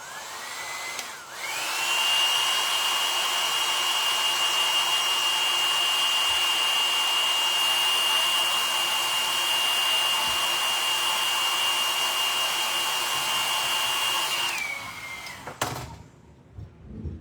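A hair dryer blows on fresh paint on a Dollar Tree clipboard, switching on with a rising whine, then holding a loud, steady whirring roar with a high tone for about thirteen seconds before it winds down and cuts off.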